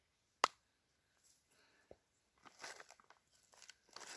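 A food bar is bitten and chewed outdoors during a survival trip, a sharp crunchy bite followed by quiet intermittent crinkling and chewing sounds, close and faint.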